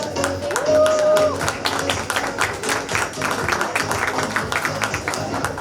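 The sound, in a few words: audience applause at annual function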